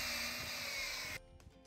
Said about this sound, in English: you're going to drill in your screws to attach the sides of the bed